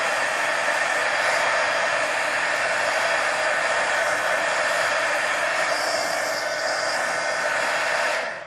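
A hair dryer blows steadily and loudly up close, drying paint on the pages of a mixed media napkin journal. The airy whoosh runs continuously for several seconds and then cuts off abruptly.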